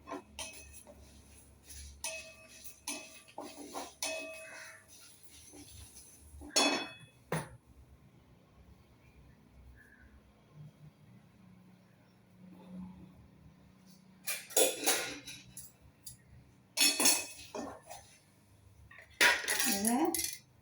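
Fried ash gourd vadam being moved from the pan onto a plate in a home kitchen, with scattered clinks and scrapes of utensils and dishes, a few louder bursts of clatter near the end.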